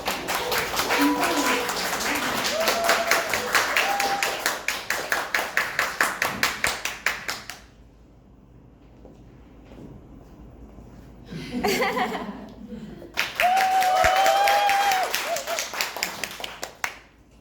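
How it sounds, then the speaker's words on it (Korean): An audience of parents at an academy information session claps steadily, the applause gradually thinning into separate claps before a quiet gap, then a short burst of chatter and a second round of applause. "큰 박수로 조금 떨리고 실수할 수 있지만 큰 박수로 맞춰주셨으면 좋겠습니다"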